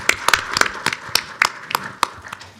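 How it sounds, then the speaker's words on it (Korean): Sparse, distinct handclaps from a small audience at a Kwanhun Club political debate forum, about ten sharp claps spread irregularly over a few seconds in a quiet room. "자, 이건 마지막 허용되는 박수 한 타임입니다"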